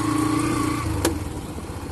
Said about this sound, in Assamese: এনেকুৱা বাঁহৰ দলঙৰ ওপৰেদি মোৰ বাইকখন লোৱাৰ পৰা আজি ফাৰ্ষ্ট টাইম লৈ আহিছোঁ